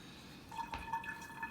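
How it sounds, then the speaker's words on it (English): A silver coin is rinsed under running water, giving a quiet trickle with soft, scattered drips and small splashes that pick up midway through. "So I'm going to rinse it off."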